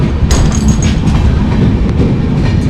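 The Radhikapur–Kolkata Express passenger train moves on rails near Raiganj station, a loud, close, continuous rumble with rattling clatter throughout.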